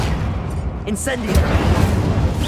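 Bombarda spell explosion in Hogwarts Legacy, a booming blast with crackling debris that rumbles loudly through the short clip, with a voice speaking over it.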